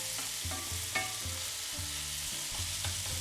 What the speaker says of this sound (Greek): να σοταριστεί το κρεμμύδι μου